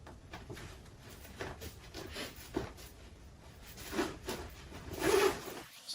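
A zipper is run up on a tan work jacket in several scratchy, rasping pulls of varying length, close and fairly quiet, with no talking over them.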